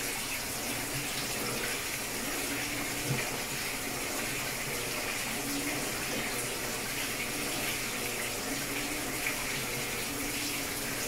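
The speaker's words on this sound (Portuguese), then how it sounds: "Esse agitador com muita água ele não puxa a roupa." Electrolux top-load washing machine, LEC14/LEJ14 series, with its agitator churning clothes in a deep load of water and softener during rinse: a steady, loud, continuous rushing slosh that runs unbroken throughout, with no voices.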